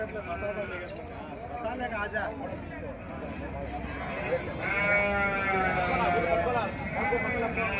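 Sheep bleat repeatedly at a livestock market, several animals calling close by in overlapping wavering cries over crowd noise and hoof clatter, with people talking throughout.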